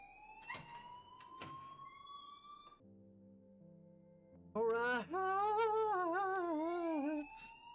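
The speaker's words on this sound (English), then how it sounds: "please turn off that alarm since that's your job" An alarm blares in the video game Life Is Strange, a loud wavering electronic tone that starts partway through and holds for a few seconds, following quieter game sounds and soft thuds.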